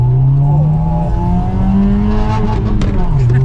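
A 1,000-horsepower car's engine revs loudly and steadily up close, its droning pitch rising and falling, with people talking over it.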